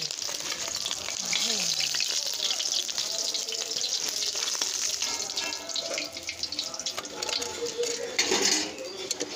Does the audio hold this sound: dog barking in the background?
no